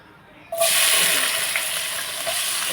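Onions tipped into hot oil in a pan at home: near silence, then a sudden loud hiss as they hit, settling into a bright, steady crackling sizzle that runs to the end.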